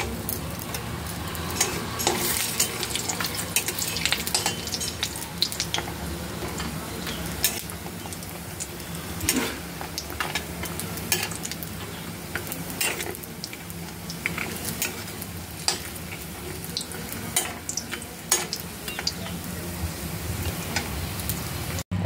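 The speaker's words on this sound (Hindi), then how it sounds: "प्रथमे बड़ी को भाजी नवा।" Lentil bori (badi) frying in a pan with oil, a steady close sizzle and crackle running throughout with occasional stirring scrapes and pan knocks, no voices.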